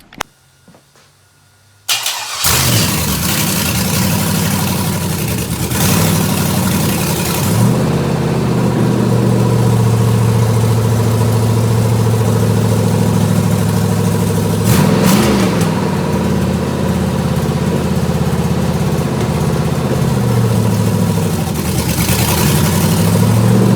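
A GM LS V8 engine mounted on an engine stand cranks and fires up after a brief quiet moment, then runs loudly and steadily at idle with occasional blips in revs, close by and without talk.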